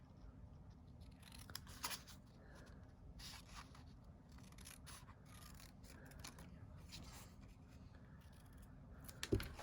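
Scissors snipping paper pieces for a scrapbook page kit, a steady run of close, quiet cuts and rustles over a low background hum, with a sharper click near the end.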